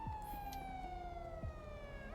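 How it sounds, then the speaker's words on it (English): A police siren in the game GTA V roleplay server NoPixel wails steadily with a slowly falling pitch, loud and continuous, with a brief higher sweep near the start. "Okay, cut the sirens, Crystal."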